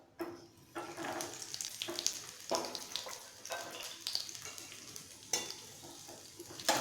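Almonds dry-roasting and being stirred in a pan for a Pongal feast dish, giving a steady soft sizzle broken by repeated scraping and rustling strokes, close and moderately loud with no talk.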